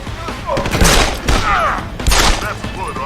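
Gunfire in the video game Deus Ex: Human Revolution, a few loud shots and bursts with booming impacts, mixed with game sound effects and some voices.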